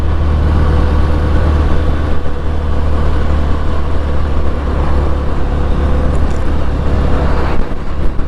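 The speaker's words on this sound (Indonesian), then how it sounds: "Banyak truk-truk besar juga ternyata yang lewat sini." Large trucks and other traffic pass along a wide road in Darangdan, Purwakarta, making a loud, continuous engine roar and tyre rumble that stays close and steady throughout.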